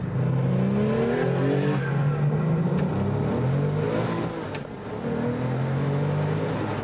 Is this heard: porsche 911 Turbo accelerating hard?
yes